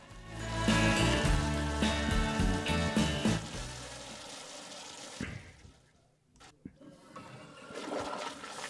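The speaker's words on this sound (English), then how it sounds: "We're flushing the orange turd and we are going." A toilet flushes with a loud rushing gurgle that fades into a quieter trickle and tank refill, with a few small knocks near the end.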